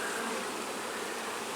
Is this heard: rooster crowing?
no